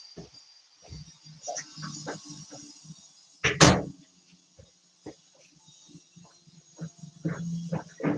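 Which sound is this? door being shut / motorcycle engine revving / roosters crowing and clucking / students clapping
door being shut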